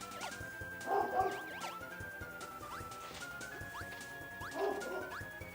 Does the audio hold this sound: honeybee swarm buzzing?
no